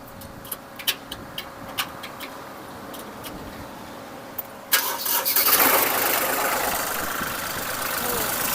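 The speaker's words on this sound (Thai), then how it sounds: "อ่าเราฟังเสียงเครื่องยนต์กันดีกว่า" A few clicks and ticks, then an engine cranks and catches, settling into a steady idle with a broad mechanical hum.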